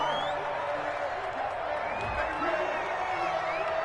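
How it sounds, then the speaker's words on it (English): A home football crowd in a stadium roars in approval of a penalty flag on third down, a dense, sustained cheer with scattered whoops throughout. "This home crowd, they're happy with that call."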